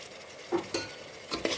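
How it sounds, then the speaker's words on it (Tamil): Onions and mint leaves fry in a pan for a chicken gravy, a soft continuous sizzle with a few quick stirring scrapes and utensil taps, brief and fairly quiet. "புதினா இலைய இலையை போட்டு வந்து நல்லா வதக்கிட்டு"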